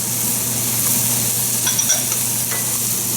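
Chopped onions and celery sizzling loudly in a pot as they are stirred, a dense, steady frying hiss with a few faint clinks of a utensil against the pot, and no talking.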